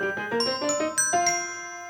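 A bright, ringing ding-dong chime plays a quick run of several descending bell-like notes that overlap and sustain, marking a correct answer in a true-or-false quiz segment. No voices accompany it.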